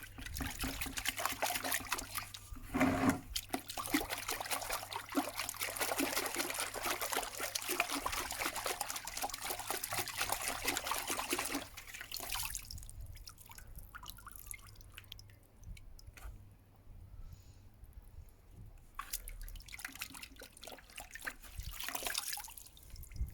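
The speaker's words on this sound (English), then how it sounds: "I'm just going to give that a quick rinse out with some water" Water trickles and drips while the roots of a Chinese elm bonsai are rinsed: a steady, fairly close splashing flow for about twelve seconds, then scattered lighter drips and dribbles as the stream eases off.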